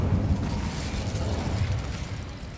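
An Incendio fire spell is cast in the video game Hogwarts Legacy, producing a dense, rumbling roar of flame with crackling bursts that holds steady throughout.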